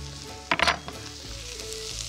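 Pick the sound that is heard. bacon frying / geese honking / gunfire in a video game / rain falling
bacon frying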